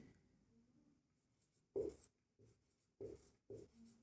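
During a Class 10 maths lesson on quadratic equations, someone writes on a board in a quiet room: a few short, separate scratchy strokes with pauses between them, close and faint, with no talking.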